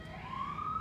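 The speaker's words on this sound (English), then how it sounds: "Well, there's the ambulance again." Faint ambulance siren wailing in the distance, a single rising tone over a quiet background.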